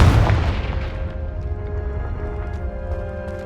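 A Confringo explosion spell in Hogwarts Legacy bursts with a loud, booming blast that decays into a rumbling, crackling tail over a few seconds, with no one talking.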